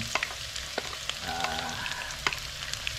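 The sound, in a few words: sautéing onions in oil for Filipino biryani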